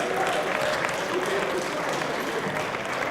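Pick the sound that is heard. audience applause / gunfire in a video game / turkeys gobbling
audience applause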